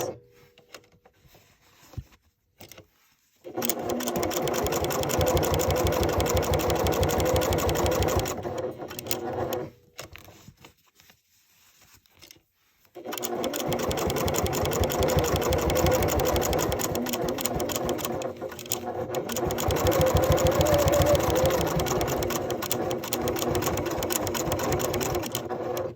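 Sewing machine stitching a denim purse made from upcycled jeans, running in two long steady bursts with a short pause between while the presser foot is lifted and lowered.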